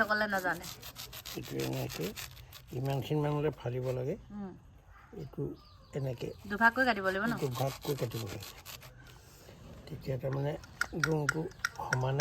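A knife saws and scrapes through a fibrous banana stem, cutting it into equal pieces, with rough rubbing strokes heard in short bursts beneath someone talking steadily close by.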